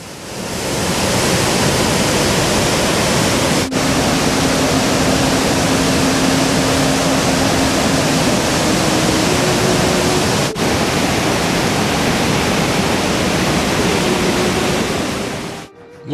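The Do Dang waterfall on the Nang river roars in a loud, dense, unbroken wash of falling water that fills the entire stretch evenly, near and constant, with no voices.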